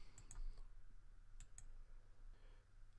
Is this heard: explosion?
no